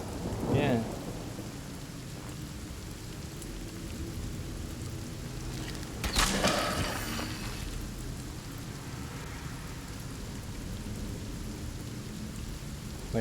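A rain and thunder spell in the fantasy game Divinity: Original Sin brings steady, loud rainfall throughout, with a crack of thunder near the start and a heavier thunderclap rumbling about midway, no talking.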